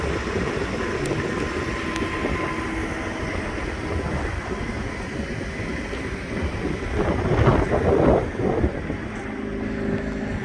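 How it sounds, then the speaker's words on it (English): A 2015 Jeep Renegade starts by remote start outdoors. A steady engine rumble runs under wind noise and swells briefly toward the end as it catches, then settles into idle, with no talking. "Vehicle comes with smart key like this, lock, unlock, remote, start."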